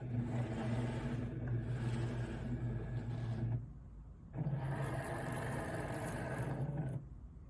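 A Cricut cutting machine cuts vinyl on a mat with a steady mechanical whir. The whir stops briefly partway through, then resumes. It is close and moderately quiet, with no speech.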